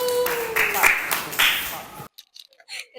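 Children in a primary school classroom clap their hands together in a short burst of applause lasting about two seconds, then a few scattered claps and voices trail off afterward.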